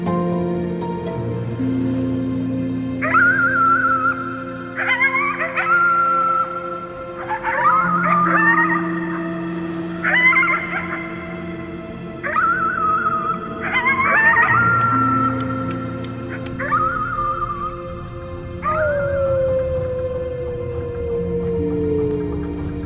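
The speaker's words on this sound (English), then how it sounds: "You howled at the moon at the top of your lungs." In the video game Before Your Eyes, a child howls at the moon, singing long wavering wolf-like howls that rise and fall over and over. Sustained tonal music plays underneath, and no one talks.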